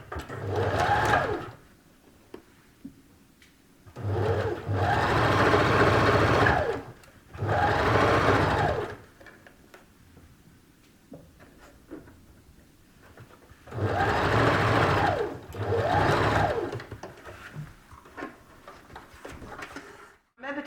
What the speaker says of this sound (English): So I want you to sew along that shoulder and then sew along the other shoulder.